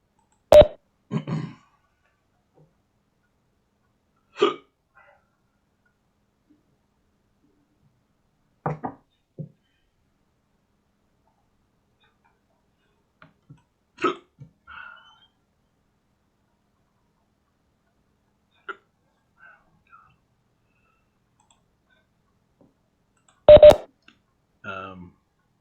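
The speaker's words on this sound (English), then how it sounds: "These hiccups are getting bad." A person has a bout of hiccups while presenting a lesson on the rendering pipeline. Sharp isolated hiccup bursts come every few seconds against near silence, and two of them are louder.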